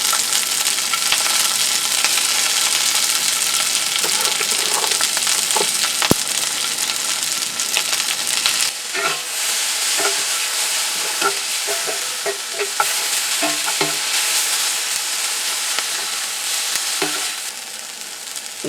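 Sliced peppers and onion fry in a pan with a loud, continuous sizzle and crackle. Scattered stirring clicks and scrapes run through the sound, and it grows slightly sparser in the second half. No one speaks.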